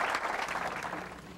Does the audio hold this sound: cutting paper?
no